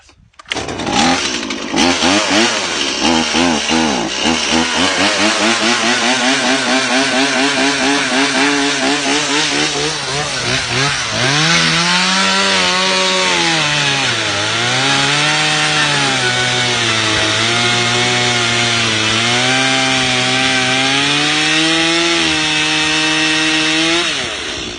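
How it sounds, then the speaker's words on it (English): In cold weather, a chainsaw starts up and revs hard, then bites into wooden fence boards with a steady, bogging and rising cutting whine close by. "get the power saw out."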